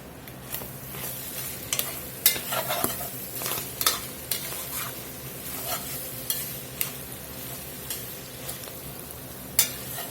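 Garlic cloves sizzle in a pan, a steady close frying hiss broken by scraping stirs and light clinks of a utensil against the pan.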